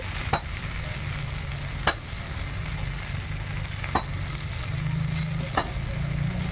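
A fish head fries with turmeric in a pan, producing a steady close sizzle broken by a sharp spatula tap roughly every two seconds.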